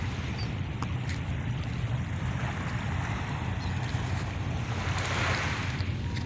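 Choppy water and waves at Manila Bay, a constant close rumbling wash with wind noise on the microphone, steady and moderately loud with no voices.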